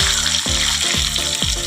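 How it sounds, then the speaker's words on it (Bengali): Potatoes fry in oil for chicken kosha, giving a steady, close, bubbling sizzle with a few rhythmic scraping strokes of stirring through it. "এবারে আলুটা ভাজা করবো লাল করে"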